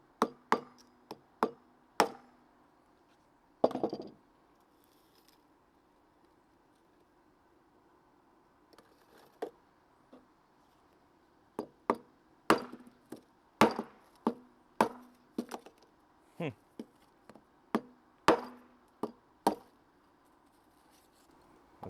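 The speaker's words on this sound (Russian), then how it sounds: "Давайте теперь попробуем разбить и посмотрим, насколько хорошо держит клей" Glued refractory bricks struck to break them apart, producing sharp, hard knocks in irregular clusters of about twenty blows with quiet pauses between, each impact close and distinct.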